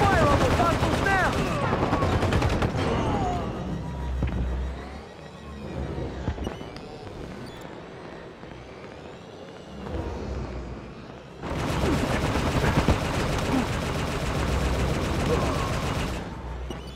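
Heavy Halo 5 Warzone gunfire with rapid automatic bursts and explosive shots, loud crackling volleys at the start and again toward the end, and quieter game voices in between.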